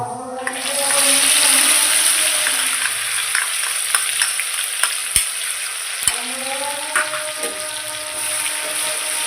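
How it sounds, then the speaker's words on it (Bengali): Ground red chili paste frying in hot oil while being stirred, for a Rajasthani-style dish: a steady loud sizzle with a rush as the paste goes in, then scraping stirs and occasional spoon knocks on the pan. "আমি বাটা লঙ্কাটা দিয়ে দেবো, যেটা পিসে পেস্ট করেছিল।"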